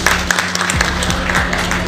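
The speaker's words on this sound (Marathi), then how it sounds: "जोरदार टाळ्या सगळ्या एम्प्लॉईजसाठी." Applause for a company's employees at an office gathering, a short burst of clapping from a small group with a faint tonal hum and some voices under it.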